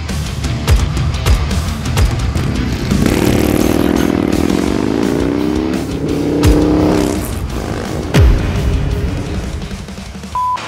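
Harley-Davidson 2022 Low Rider ST motorcycle fitted with a Stage 2 kit and 45 cam, its V-twin engine running and revving in loud, rising bursts that settle back to a rumbling idle, with no talking.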